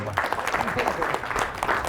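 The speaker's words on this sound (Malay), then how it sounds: "Tepukan untuk Balai tuan-tuan" An audience at a Malaysian live talk session claps briefly in a short burst of applause, with a voice speaking over the clapping.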